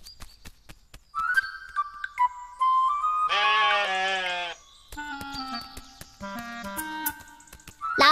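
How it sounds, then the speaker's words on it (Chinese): An old goat on a farm bleats in drawn-out, wavering cries, two long bleats separated by a pause, close and clear, with sparse clicks and light knocks around them. "先去看看那只老山羊吧"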